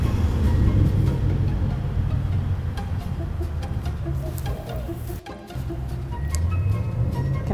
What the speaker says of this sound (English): Can I hear another car?